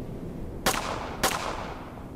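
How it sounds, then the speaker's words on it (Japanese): Two sharp gunshot sound effects about half a second apart in a Japanese short-story reading, muffled and fairly distant, over a constant background hiss. "ウィルスンは腕を上げ発砲した"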